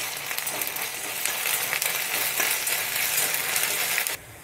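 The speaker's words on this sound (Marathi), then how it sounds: "1 चमचा आपल्याला अद्रक लसूणची पेस्ट टाकून घ्यायची आणि त्याला पण फ्राय करून घ्यायचं आहे मस्त" Ginger garlic paste fries in a pan for chicken kadai masala, giving a steady, loud, broadband sizzle that runs unbroken for about four seconds and then cuts off abruptly near the end.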